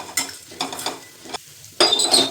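Dry-roasting dal being stirred in a pan, bursts of scraping and rattling sizzle in uneven strokes with short pauses, closing on a louder clattering stir, near and without speech.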